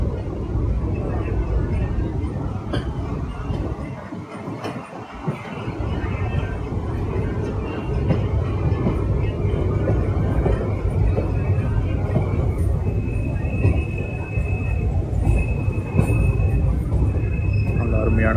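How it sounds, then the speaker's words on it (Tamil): Suburban MRTS train running on tracks in Chennai, heard from on board: a steady, loud rolling rumble that continues unbroken for the whole stretch, with no clear talk over it. "இப்போ பாருங்கள் எவ்வளோ அழகாக ட்ரெயின்லாம் போகுது."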